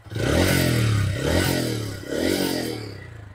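A TVS Ronin 225 motorcycle's exhaust revs and holds near 4000 RPM, a loud, close, throaty drone that swells, dips briefly and builds again, with no talking.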